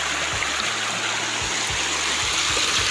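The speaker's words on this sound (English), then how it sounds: "See, there is a small waterfall." A small waterfall on a river in Jambi, Indonesia, flows steadily with a broad rushing hiss, punctuated by a few low thumps, with no voices.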